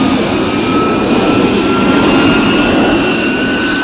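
The F116 jet aircraft, coming in too fast, makes a loud, continuous roaring jet whine with a steady high tone, holding constant and close throughout.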